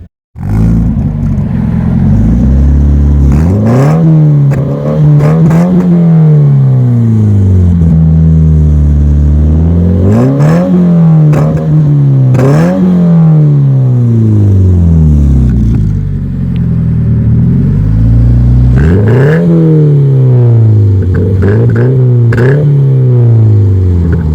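A 2015 Subaru BRZ engine rumbles steadily at idle, with repeated swelling blips and pitch sweeps as the revs rise and fall, loud and close throughout.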